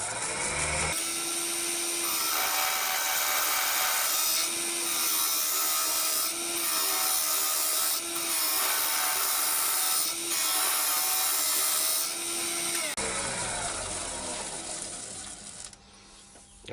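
A small ash bowl spins on a lathe as the gouge edge cuts with its bevel rubbing, producing a loud, continuous shearing hiss over a low motor hum for about thirteen seconds before it stops and trails off.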